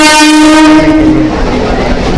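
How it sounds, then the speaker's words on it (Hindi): A passenger train pulling into Rupbas railway station in India, its horn blaring loud and sustained at first, then fading into the heavy close rumble of the moving cars. "तो अभी हमारी ट्रेन आ गई है इस जगह"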